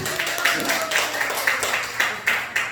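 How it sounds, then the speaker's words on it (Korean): Church congregation applauding during a Sunday service, a steady patter of many hands with rhythmic bursts of clapping, fairly close and continuous throughout. "박수 한번 해요. 박수."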